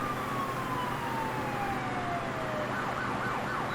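Emergency vehicle sirens from a North American vehicle mod in the Rolling Line train game, a long descending wail followed by rapid yelping sweeps, loud and steady over a constant engine-like hum, with no talking.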